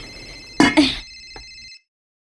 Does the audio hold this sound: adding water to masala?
no